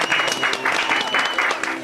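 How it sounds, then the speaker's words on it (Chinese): Studio audience applause on a Taiwanese cooking show, steady clapping with rhythmic bursts that rises and falls over a couple of seconds, fairly loud and close, with no talk over it. "掌声鼓励"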